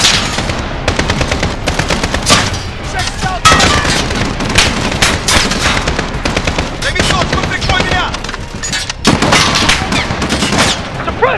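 Machine gun fire in a military shooter game set at a chemical factory base, loud dense bursts of rapid shots with sharp cracks and booms throughout, continuous and close, with faint shouted voices mixed in.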